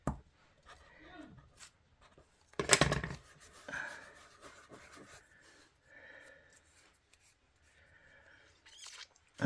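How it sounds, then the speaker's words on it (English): Scissors scoring thick card for a craft project make soft, quiet rubbing and scraping strokes, with one sharper, louder rasp in the middle and scattered small handling noises between. "I'm just going to score it with my scissors."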